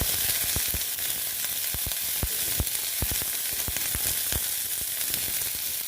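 Onion fries in fish oil, a dense, bright, steady sizzle punctuated by sharp taps of a spatula stirring against the pan, close and without talking.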